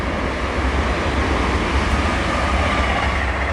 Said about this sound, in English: That's how close we are to the railway.